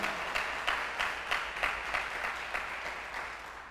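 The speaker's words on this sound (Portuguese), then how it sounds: "Dá um aplauso a Ele" A church congregation claps together in a steady, rhythmic beat, with about a dozen evenly spaced, fairly loud strokes that carry on at a constant pace.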